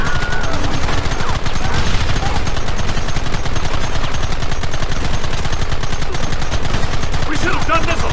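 Dense gunfire in a Red Dead Redemption shootout, rapid overlapping shots cracking continuously, loud and near, with shouting voices now and then beneath it.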